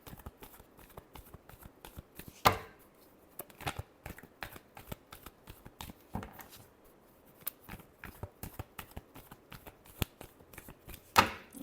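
Tarot cards being shuffled by hand, a steady run of soft papery riffles and taps with a few sharper slaps standing out, close and fairly quiet with no talk.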